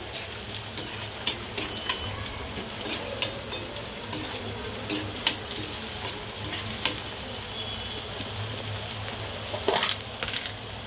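Chopped onions frying in a pan with a steady sizzle, broken by sharp scrapes and clinks of a spoon stirring at irregular moments, close and fairly quiet throughout, with no voices.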